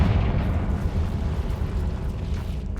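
A Confringo fire spell explodes in Hogwarts Legacy, a dense, sustained low rumbling roar that holds steady and loud for about three seconds without any voices.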